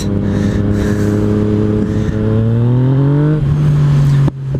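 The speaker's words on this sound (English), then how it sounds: "I hope you guys can like hear this bike. It's got the Krapovic exhaust on it." A loud 2017 Yamaha FZ-09 (MT-09) motorcycle with an aftermarket Akrapovič exhaust revs and climbs in pitch with a deep, throaty exhaust note, then cuts off abruptly near the end; no voices.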